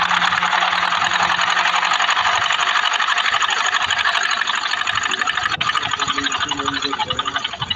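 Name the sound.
sewing machine stitching a back pocket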